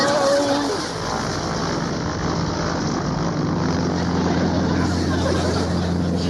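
A propeller plane's engine drones loudly and steadily, a broad continuous roar holding throughout with no clear speech over it.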